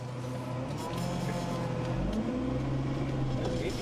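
A manual first-generation Honda CR-V engine idling and then rising in revs under gentle throttle, a steady low hum heard from inside the cabin with faint background noise and no talk over it.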